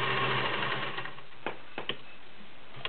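A vintage 403A Slant-O-Matic sewing machine fitted with a zigzag cam runs with a smooth, steady whir for about a second, then winds down to a quieter hum with a few light mechanical clicks.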